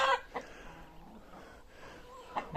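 A hen clucks softly while being held, a few short faint clucks and squawks at the start and end, close by in a quiet setting.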